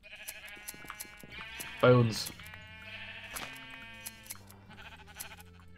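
A sheep bleats in Minecraft as it is sheared, one loud bleat near the middle rising over game music and background tones, with a voice speaking briefly.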